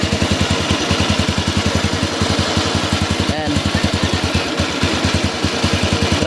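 A motorcycle engine idles close by after an oil change while the oil circulates, giving a steady, rapid, even chugging pulse that runs throughout at a constant level.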